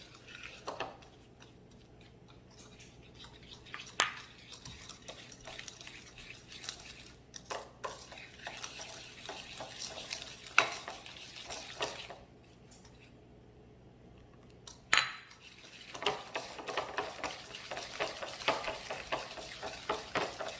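A spoon stirs a cinnamon-spiced scone glaze as milk is mixed in, giving soft, irregular scraping and clinking against the bowl with a few sharper knocks, close and fairly quiet.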